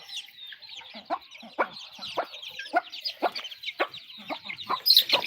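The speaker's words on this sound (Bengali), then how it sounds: "এখানে আমাদের মুরগিগুলো খাচ্ছে" A flock of farm chickens pecks at feed, their dense overlapping clucks and chirps forming a busy, close chorus with quick rhythmic bursts.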